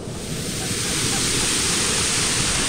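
Steady, dense roar of rushing water filling the whole clip, loud and constant like a nearby waterfall.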